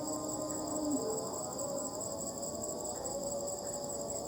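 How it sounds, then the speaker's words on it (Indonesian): Crickets and other insects chirp at night in a cemetery, forming a steady, fairly faint high-pitched trill that stays even throughout, with a low background hum and no talking. "Serangga-serangga, jangkrik,"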